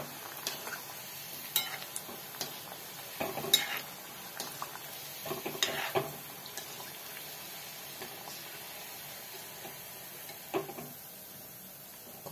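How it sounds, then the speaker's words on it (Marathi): An egg dish fries gently over a low flame, giving a faint, steady sizzle. Occasional soft scrapes and taps of a stirring utensil against the pan come through up close and quietly. "मंद आचेवर आपण याला चांगलं फ्राय करून घेऊया"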